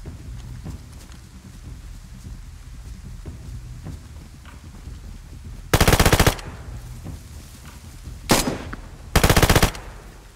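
A Scorpion submachine gun fires in DayZ, two loud bursts of rapid automatic fire separated by a brief single shot, heard over a low, quiet ambient background.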